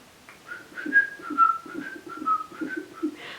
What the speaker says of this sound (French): Est-ce que tu sais siffler?